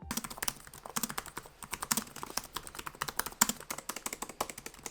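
Typing on the keyboard of a Lenovo Yoga Slim 7 Pro X laptop, 1.3 mm key travel, in a steady, fast run of close, crisp keystrokes with no voices.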